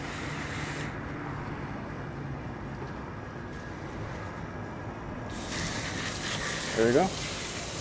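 Water spray hisses steadily as a nozzle washes mildew and dirt off air-conditioner coils during a maintenance service, a continuous close rushing with someone speaking briefly near the end.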